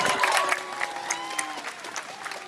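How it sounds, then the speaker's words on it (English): Crowd applause at a civil rights march in Tuscaloosa, Alabama: scattered outdoor clapping and some cheering that swells early and then thins, with voices and crowd noise mixed under it. "Give him a big round of applause."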